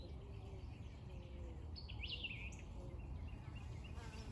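Honey bees flying around a beehive on a cold morning, a faint low buzzing hum that runs steadily throughout, with a few distant bird chirps over it.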